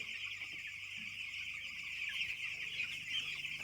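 Nine-day-old broiler chicks on a poultry farm, a dense, steady chorus of high peeping and cheeping that fills the whole stretch at close range, with no voices.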